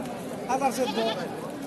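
A goat bleats a few times in quick succession at a busy goat market in Mahadevpur, Naogaon, over a background of people talking.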